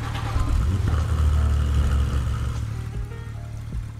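A Porsche 911 GT3 engine in the game Driving Empire rumbles at a steady low idle after startup, close by, with a slight lift in revs before settling.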